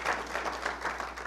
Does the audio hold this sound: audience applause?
yes